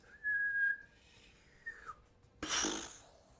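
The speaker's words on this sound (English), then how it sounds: "you just kind of hear this whistling, high-pitched sound" A high-pitched whistling from a red bead of fiery arcane energy in a tabletop fantasy session, a thin rising tone followed by short whistles and then a loud broadband burst, heard alone and fairly near.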